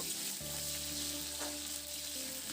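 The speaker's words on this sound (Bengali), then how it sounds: "রসুনটা দিয়ে দু মিনিট মতো একটু নাড়াচাড়া করে রসুনটাকে একটু ভেজে নেব" Garlic fries in oil with a constant close sizzle, stirred in a pan, with a steady low hum underneath and no talking.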